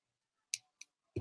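Scissors snip through chunky yarn rope while making jewellery, giving two crisp, close snips followed by a louder, fuller cut at the end, with quiet gaps between and no talking.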